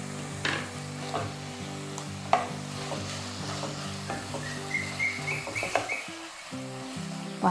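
Tomatoes, garlic, green chilies and spices sautéing in a pan for a makhani gravy give a soft, continuous sizzle, broken by spoon-stirring scrapes and taps, while birds chirp in the background.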